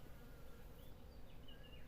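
A steady, close insect buzz drones continuously, a honeybee's hum with slight wavering pitch and no voices.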